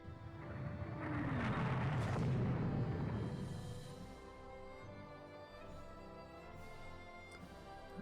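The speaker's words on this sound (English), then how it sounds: "Okay, unidentified opens fire." Naval gunfire in the Rule The Waves 2 video game: a muffled booming salvo swells and rolls for a couple of seconds, then fades into a low distant rumble.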